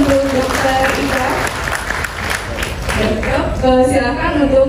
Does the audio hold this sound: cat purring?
no